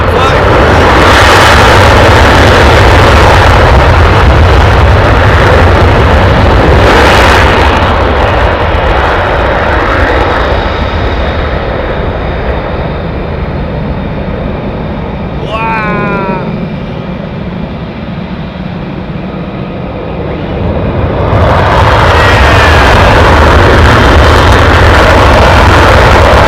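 Fighter jet of the 48th Fighter Wing pulling up into a vertical climb, a loud, roaring engine rumble that dominates throughout, easing slightly and shifting in pitch before swelling again.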